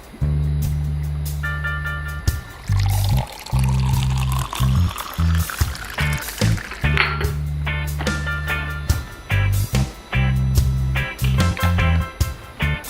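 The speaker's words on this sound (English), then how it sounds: "We are going to pour in the alcohol." Liquid pours in several bursts, splashing into a container while steady music plays beneath.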